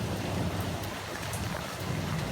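Heavy monsoon rain pours steadily over a home lawn and garden, a dense continuous hiss with low rumbling texture, loud and unbroken throughout with no voices.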